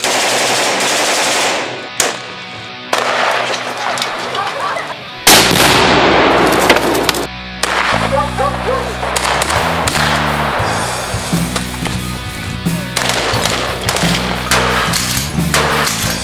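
An Arsenal SLR-104 FR rifle in 5.45x39mm fires loud, close shots, single cracks and quick strings of rounds with short gaps, sharp reports ringing out outdoors.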